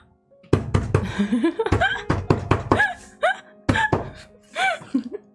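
Several irregular knocks on a door, close by, made by a dog outside, mixed with high whining, voice-like sounds between the raps.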